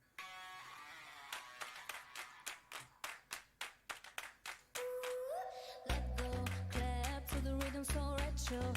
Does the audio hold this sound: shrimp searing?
no